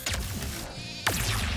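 A sheep dropped in Ratchet & Clank: Rift Apart gives two short, close bleats, a wavering cry at the start and another about a second later, heard alone.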